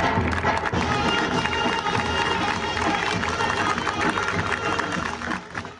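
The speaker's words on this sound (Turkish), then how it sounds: "Cudi Dağı'na operasyona giden askerler alkışlarla ve mehter marşıyla böyle uğurlanıyor." Soldiers of the 172nd Armored Brigade in Cizre, Şırnak, leave for an operation on Mount Cudi, sent off with steady applause and mehter march music that blend into one loud, continuous crowd roar throughout.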